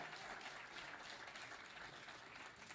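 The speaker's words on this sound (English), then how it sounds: "Golf clap." Light, polite applause from a small group, a faint, even patter of scattered claps sustained throughout with no voices.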